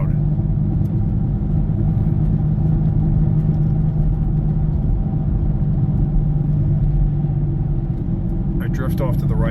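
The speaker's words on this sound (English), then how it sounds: "That's the wheel bearing. Sounds like it's right front." Worn right front wheel bearing on a moving car, giving a loud, steady low droning rumble under road and engine noise throughout, with no talking.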